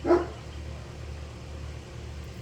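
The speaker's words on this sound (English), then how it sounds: "Bark, confirmation." A single dog bark sounds at a distance near the start, then only a low outdoor hum remains, with no talk.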